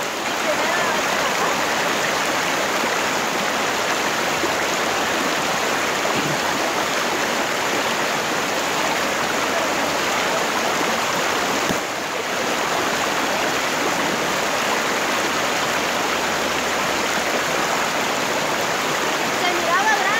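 Water runs steadily and fairly loudly for the whole stretch, a dense continuous splash and hiss as something is washed under the flow, with only a brief dip partway through.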